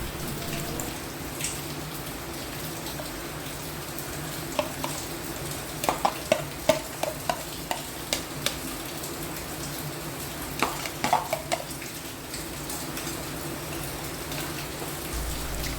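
Steady bubbling and sizzling of egg curry simmering in a pan with onion mixture, with soft pops and a few brief stirring clicks, continuous throughout.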